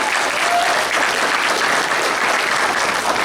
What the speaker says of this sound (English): you can give a applause.